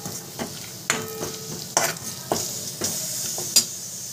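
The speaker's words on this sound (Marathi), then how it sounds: "आणि हे वाटण टाकून घेते तेलामध्ये" A ground spice paste of salt and green chilli sizzles in hot oil as a spoon stirs and scrapes the pan in a series of sharp, irregular clinks over a steady low fry.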